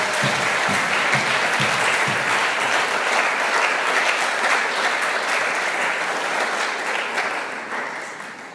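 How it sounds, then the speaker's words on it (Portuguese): A church congregation applauds loudly and continuously for several seconds, dense and sustained before tapering slightly at the end. "Aplauda Jesus"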